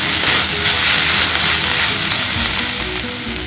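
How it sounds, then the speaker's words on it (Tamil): Loud, close sizzling as beaten eggs are poured over drumstick leaves frying in a pan, a dense continuous crackle and hiss that fills the whole moment. "இப்போ நம்ம இதில் முட்டை உடச்சி ஊற்றிக்கலாம்."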